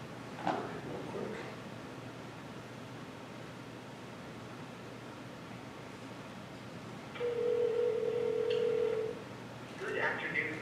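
A telephone call is being placed, with a steady tone holding for a couple of seconds amid quiet background hiss and a few faint clicks.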